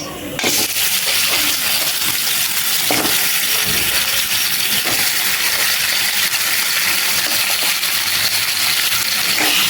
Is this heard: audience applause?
no